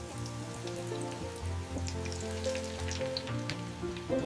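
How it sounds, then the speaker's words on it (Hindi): Chicken rolls fry in hot oil, a close, steady crackling sizzle with fine popping and bubbling, under a low hum of background music or kitchen noise. "अब इन रोल्स को गरम तेल में गोल्डन फ्राई करके निकाल लेंगे।"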